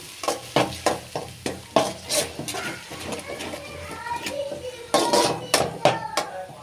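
Ginger-garlic paste and ground tomato paste frying in a pan for a pea kurma, stirred with repeated scraping and clacking strokes over a continuous sizzle, loud and close.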